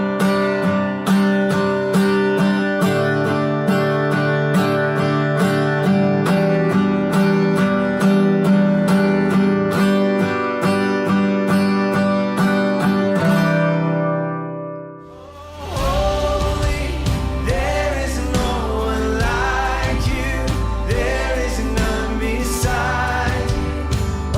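An acoustic guitar strums bridge chords in an even, straight eighth-note pattern, ringing loud and close, then breaks off and shifts into a busier strummed passage.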